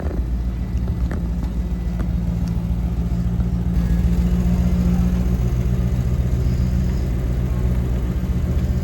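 A muscle car with an LS engine runs at a steady idle on an indoor show floor, its loud, deep rumble continuous and close.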